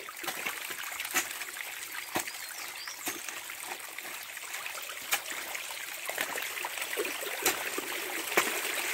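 Spring water runs down a dug channel in a steady, soft trickle and gurgle, with brief splashes and clicks scattered throughout, heard alone.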